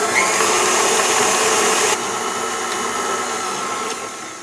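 An electric stand mixer whirs steadily as it beats strawberry shortcake batter, a loud continuous motor hum that drops slightly in level partway through and then eases off near the end.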